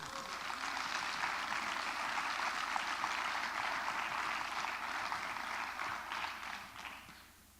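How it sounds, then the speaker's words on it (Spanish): A church congregation claps steadily and enthusiastically for several seconds during a service at Teatro Vallarta, the applause fading out toward the end. "Dale un aplauso al Señor."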